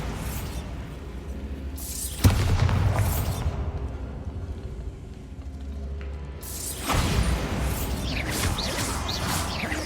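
A Bombarda blast spell goes off in Hogwarts Legacy with a sudden loud crash. A rumbling, debris-filled roar follows and fades over a few seconds, then a second burst of crashing noise rises near the end.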